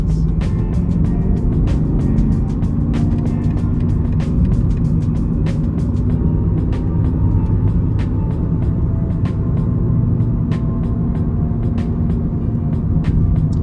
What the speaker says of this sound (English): there is just something about a V8, a BMW V8, that is so rewarding to experience